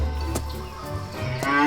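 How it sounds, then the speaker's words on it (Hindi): A buffalo bellows loudly in the morning during a haunted ghost story. Deep, drawn-out lowing calls sound close and strong, with the moos swelling again toward the end and no talk over them. "अगले सुबह भैंस जोर जोर से फिर चिल्लाने लगी।"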